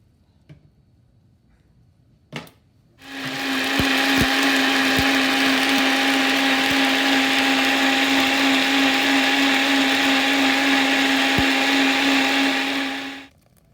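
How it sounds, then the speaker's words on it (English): After a couple of faint clicks, a NutriBullet blender whirs loudly and steadily for about ten seconds while blending muscadine grapes and water into juice, then cuts off abruptly. "I'm using my NutriBullet."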